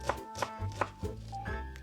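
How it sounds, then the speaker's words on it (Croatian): Knife finely chopping fresh parsley and dill on a board, with about four crisp, evenly spaced chops and softer board taps between them, close up and with no talking. "Zeleniš ćemo sjeckati sitno."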